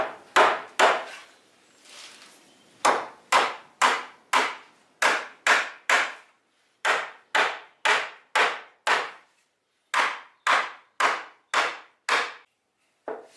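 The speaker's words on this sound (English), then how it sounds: "And we can assemble this with the hammer again." Sharp wooden knocks from a hammer striking in quick regular series, about twenty blows with brief pauses between groups, close and clear.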